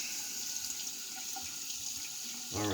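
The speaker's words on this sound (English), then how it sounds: "let me get a quick rinse here" A bathroom tap runs steadily for rinsing during a vintage shave, a faint continuous hiss of water that swells briefly at the end as the flow shifts.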